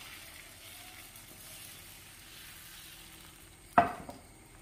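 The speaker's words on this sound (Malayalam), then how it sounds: "ഈ ഭാഗത്തോട്ട് ബാറ്റർ ഒഴിച്ചു കൊടുക്കാം" Dosa batter poured onto a hot pan for a layer dosa, giving a sudden sharp sizzle near the end after a quiet low hiss, then fading quickly.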